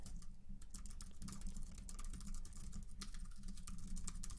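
Typing on a computer keyboard, with a steady patter of quick, close key presses running continuously and alone.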